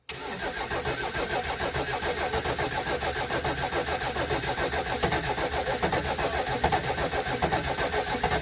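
A VW LT28 van's 2.4-litre diesel engine cranks and catches after standing unused for six years, then settles into a loud, rough, steady clattering idle close by.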